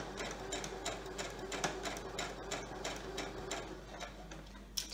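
A sewing machine stitches poly cotton fabric on a longer stitch length while a face mask is being made, giving a steady, rapid mechanical ticking that runs evenly and close throughout.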